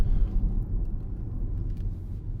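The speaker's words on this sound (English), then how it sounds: "I have to say, it's a lovely car to drive, this" Interior cabin drone of a 2015 Audi Q5 2.0 TDI S line Plus quattro on the move: a steady low engine and road rumble, moderately loud and continuous with slight surges, with no voices over it.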